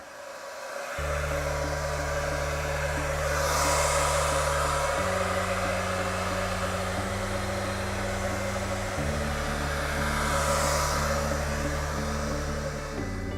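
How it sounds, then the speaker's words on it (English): A hair dryer blows with a steady loud whoosh and hum, shifting pitch a few times as its speed changes, with no talking. "I suggest using a hairdryer."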